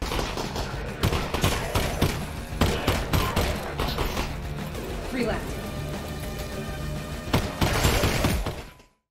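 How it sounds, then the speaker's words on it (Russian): Glass panes break repeatedly in the VR video game Half-Life: Alyx, with sharp crashes and scattered tinkling shards arriving in irregular bursts under continuous narration before the sound cuts off. "А какая прекрасная тут механика разбивания стекол"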